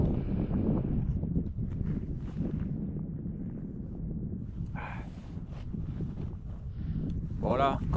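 Wind buffeting the microphone at a winter bivouac dug in for shelter, a continuous low rumbling roar that is loud and close throughout, with brief muffled bits of other sound over the top.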